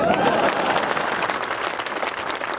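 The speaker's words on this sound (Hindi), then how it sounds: "आप भी ताली बजाओ" Brief burst of crowd applause at a Hindi comedy poetry gathering in Shivrinarayan, dense clapping that swells and then eases slightly over a couple of seconds.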